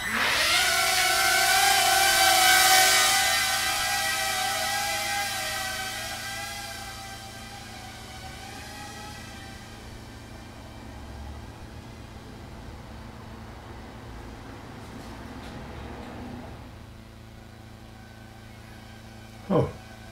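A tiny FPV quadcopter drone flies outdoors in calm air among bushes and trees. Its high, buzzing motor whine is loud at first, then drops and fades as it moves away, ending with a brief knock.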